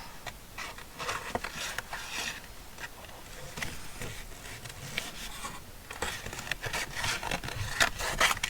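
Scissors snip and rasp through paper, cutting around printed bottle shapes, a steady close-up scratchy texture with brief pauses and no talking.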